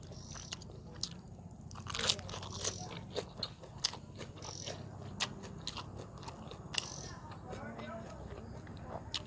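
Close, crisp crunching and chewing of crunchy bacon, with repeated sharp bites at irregular intervals over a steady low background.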